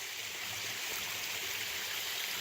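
A small stream and little waterfalls at La Madre Springs in the La Madre Mountains Wilderness rush in a steady, close, full-bodied hiss of flowing water, continuous and alone without voices.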